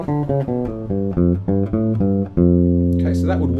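A bass guitar plays a run of the third mode of the melodic minor scale, a quick sequence of distinct plucked notes climbing and falling, close and loud, ending on a sustained note with some faint noise at the end.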